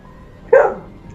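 A single short dog bark, fairly close and moderately loud, rising out of a quiet room background and fading quickly, with no talk over it.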